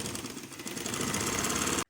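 A sewing machine stitches a baby frock, a steady rapid mechanical chatter running continuously and close, then stopping abruptly at the end.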